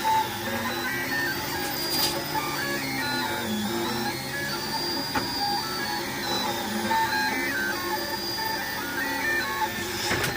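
A 3D printer running a test print on a taped bed, a steady close whirr of stepper motors with shifting whining tones and sweeping pitch glides as the head moves, continuous without pauses.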